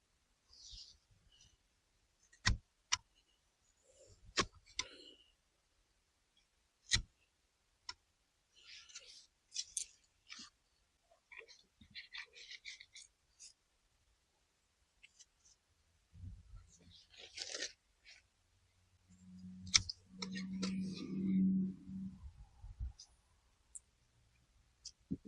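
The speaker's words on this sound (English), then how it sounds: "Any of the leaves and branches that do not look healthy, we're going to snip them away." Garden shears snipping unhealthy leaves and branches off zucchini plants, a scattering of faint, close, sharp clicks and snips spread across the clip with soft rustling, a low hum near the end.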